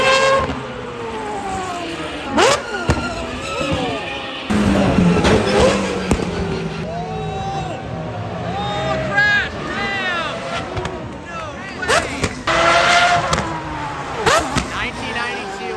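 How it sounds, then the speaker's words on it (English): Historic race cars roaring past on a track, engines rising and falling in pitch as they pass in loud waves, with some talk between passes. "we've got some historic races. These cars are absolutely insane."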